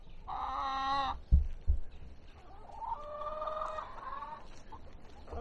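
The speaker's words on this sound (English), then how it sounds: "But all the chickens are doing great." Chickens at a homestead hen house, with a loud drawn-out crow, a couple of sharp knocks, then another hen's lower, longer call and soft clucking nearby.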